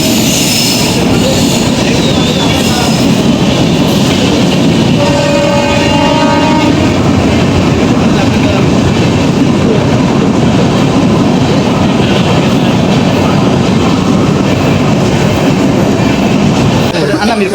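A train passes loudly and close by with a continuous heavy rumble of wheels on rails, and a horn sounds briefly early on.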